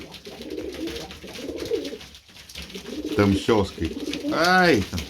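Pigeons coo repeatedly in soft, throaty bursts close by, with a person speaking briefly over them.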